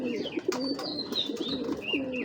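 Sapchila giribaj pigeons coo in repeated low rolling phrases close by, with brief higher chirps from other birds mixed in.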